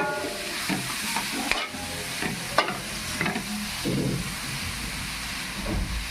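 Grated carrot being stirred in ghee for carrot halwa, a steady sizzle broken by several sharp scrapes and clinks of the spoon against the pan, close and fairly quiet, with no voices.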